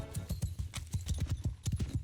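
Horses gallop in a fast, steady clip-clop of hoofbeats, close and rhythmic, with horse archers riding across a Mount & Blade II: Bannerlord battlefield.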